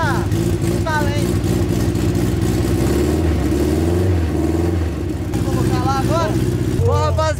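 A small Chevrolet Chevette engine revs hard and sustained after nitro is pressed, loud and close with a rising roar, while people talk over it throughout.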